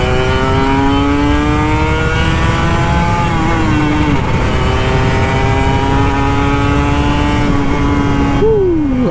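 An old Kawasaki Ninja RR 150 two-stroke motorcycle engine revs loud and close while riding, its whining pitch climbing steadily through gears with brief shifts, then dropping sharply at the end.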